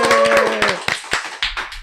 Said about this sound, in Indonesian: Tepuk tangan buat Isna.